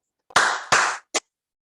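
Hand claps during a rhythm exercise in a training session: two long, loud, close bursts followed by a short sharp third, in a quiet room with no talk.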